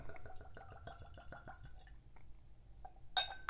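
Bourbon, a barrel-proof Larceny A123, glugs from a freshly opened bottle into a glass in a series of quick rhythmic gurgles. Faint and close, it ends with a small clink of glass.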